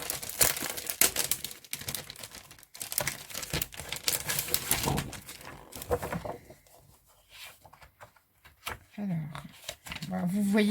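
Decorative paper sheets from a craft-shop paper collection crinkle and rustle in dense, busy handling, louder at first and then thinning into sparser rustles, with someone speaking over them.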